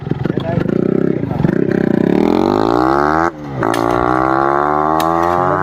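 A motorcycle engine revs hard close by, pitch sweeping up and holding high, then cutting out with a sharp exhaust crack before climbing again into a loud sustained roar.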